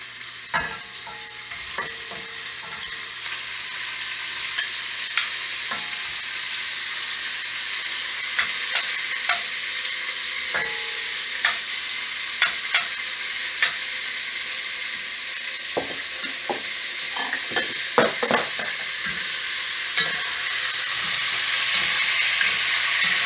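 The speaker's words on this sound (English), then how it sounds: "so that they saute and get a nice crust on them" Beef sizzles loudly and steadily while searing in a hot pan for beef bourguignon, with scattered crackles and pops throughout and no voices.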